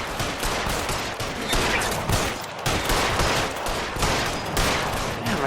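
Sustained gunfire from the L.A. Noire video game: dense, continuous volleys of shots, loud and close, with brief gaps around a few seconds in before the firing resumes at full intensity.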